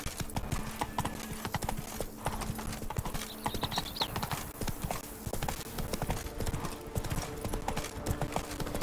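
Steady galloping hooves of a horse in The Witcher 3, a quick continuous clip-clop rhythm running throughout at moderate level, with faint game ambience underneath.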